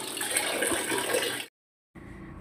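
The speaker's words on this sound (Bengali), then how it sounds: "ফিল্টার লাগিয়েছে, তার জন্য জলটা ফেলে দিচ্ছে" Water from a newly fitted water filter poured away, a steady close splashing rush that stops abruptly, goes silent, then resumes more faintly.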